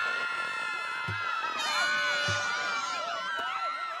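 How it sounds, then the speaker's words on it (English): Crowd at a junior varsity game cheering and shouting, with excited overlapping voices and whoops, two low thuds, and moderately distant, fairly quiet cheering throughout. "The crowd sounds happy."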